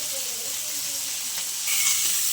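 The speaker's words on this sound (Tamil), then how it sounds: "எண்ணெயில் பொரிக்கிறத கல்லில் வறுத்து இப்படி இதில் மீன் வறுத்து சாப்பிட்டா தான் டேஸ்ட்டாக இருக்கும்." Sardines fry on a hot stone griddle in a home kitchen, giving a steady close sizzle and crackle that brightens and grows a little louder toward the end.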